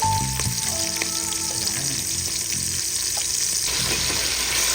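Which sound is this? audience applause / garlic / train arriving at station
garlic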